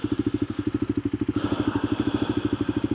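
Motorcycle engine idling with a steady, rapid pulsing thump, close and fairly loud, with a brief rise in hiss and rattle partway through; no talking.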